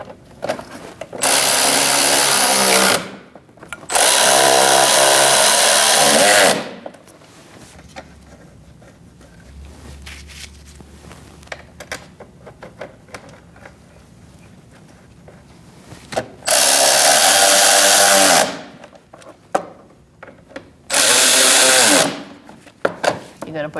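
A power tool snugs up fog light bolts on a 2008-2014 Mercedes-Benz C300, running in four loud, close whirring bursts of a few seconds each, with quieter clicks, handling sounds and pauses in between.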